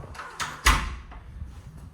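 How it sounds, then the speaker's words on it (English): A door swings shut with a single solid thud, close by, followed by a faint rattle and quiet room noise. "Let's close the door."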